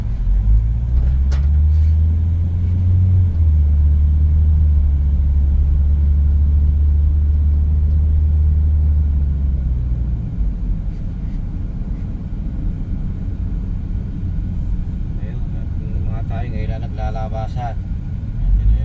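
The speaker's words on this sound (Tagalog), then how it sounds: "Yan yung mga sasakyan" Passing cars on a hot road, a steady low rumble of traffic that swells and fades, with people talking over it.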